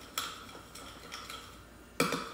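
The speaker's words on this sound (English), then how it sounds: "Now we're gonna stir" A utensil stirs purple slime after activator is added, making a few soft clicking scrapes and one sharper tap near the end; the sound is quiet and no one speaks.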